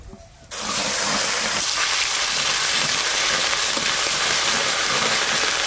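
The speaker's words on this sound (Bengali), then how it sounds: "আদা আর কাঁচা লঙ্কা বাটা একটু ভালো করে নেড়ে নিয়েছি" Ginger and green chili paste hits hot mustard oil with a sudden loud sizzle that keeps up a steady hiss, with scraping stirring throughout and no talking.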